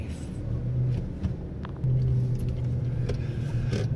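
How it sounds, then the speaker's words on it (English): A car backs up slowly in an alley, a steady low engine rumble that swells louder about halfway through and holds, close by with no talk. "I was going down an alley and there's a truck coming at me, so I had to back up there"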